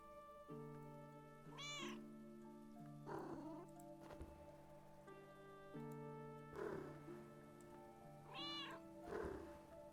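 A cat meows twice in the video game Book of Hours, each call a clear, rising-and-falling cry set over a steady, sustained musical drone with soft chimes.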